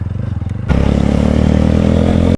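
A motorcycle engine idles loud and close with a rapid, pulsing thrum, then jumps to a fuller, steady roar that holds until it cuts off abruptly.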